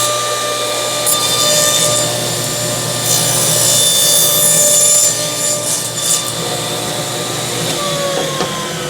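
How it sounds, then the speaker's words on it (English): Table saw fitted with a CMT orange blade cuts through hardwood, a steady loud whine with a rising bite as the blade passes through the board, running continuously without pause. "we're just going to go ahead and go through a non-knotty portion of this because we're going to go through some hardwood"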